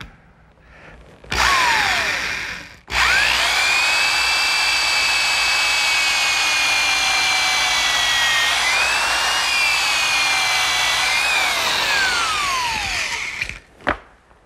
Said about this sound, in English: I'm going to pre-drill for a screw.